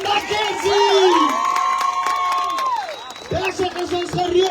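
Large crowd at a political rally for Gayton McKenzie cheering and whooping loudly, with shouts rising over a sustained roar and scattered clapping, continuing for several seconds.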